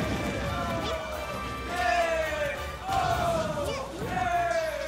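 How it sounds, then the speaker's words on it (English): A crowd roars and cheers in swelling waves at a Super Smash Bros. tournament during a Villager versus Ice Climbers match, loud and sustained beneath excited commentary. "And the crowd is nuts right now."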